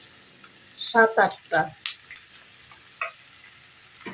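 Onion frying in a pan as green chilies, salt and spices go in for a salted hilsa bhuna, a low steady sizzle running through the clip beneath a short burst of speech.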